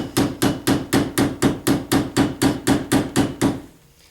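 A hammer peens the end of a pin on a knife in about thirteen sharp, evenly spaced metallic strikes, close and loud, in a quick steady rhythm that stops abruptly, with no talk.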